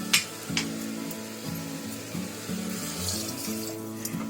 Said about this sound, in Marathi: आता त्याच्यामध्ये आहे ना मी 1 कप पाणी टाकते.